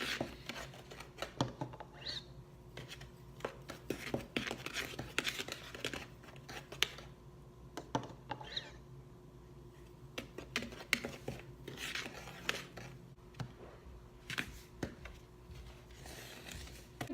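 Liquid added drop by drop into a dry bath bomb mixture while it is stirred, making a steady run of soft scratchy, crackly rustles and taps close by, with no talking.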